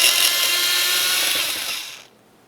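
A power tool whirs steadily on a 10mm bolt of a 2007-2012 Nissan Versa front door panel, loud and close, then winds down and stops after about two seconds.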